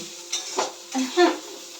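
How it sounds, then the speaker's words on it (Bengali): Potato and bitter gourd (aloo karela bhaja) frying in a pan at home, with a few distinct scraping stirs and clinks of a utensil against the pan over a low sizzle. "হ্যাঁ, আলু করলা ভাজা করছি।"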